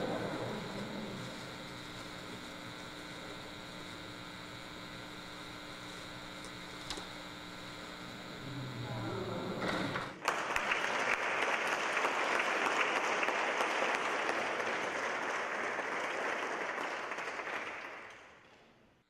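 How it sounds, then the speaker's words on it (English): A room full of guests at a university reception breaks into loud, sustained applause halfway through, replacing a steady tonal background and carrying on strongly before cutting off at the end. "One more incredible round of applause for the most special, wonderful."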